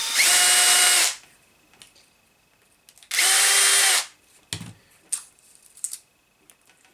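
Two long, loud bursts of a cordless power drill backing out screws to free a wheel from the turret of a motorcycle stand, with quieter clicks and handling noises between them.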